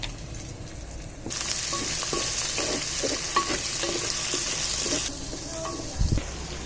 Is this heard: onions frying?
yes